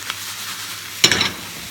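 Ground beef frying in a pan for tacos, a steady sizzle with a louder burst of crackling and stirring partway through, close and without talk.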